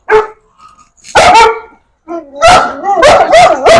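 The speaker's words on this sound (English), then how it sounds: "Got them big dogs going crazy right now because they don't even know what it is." Several big dogs bark loudly and excitedly in close range, sharp yelping barks coming in quick bursts with brief gaps between them.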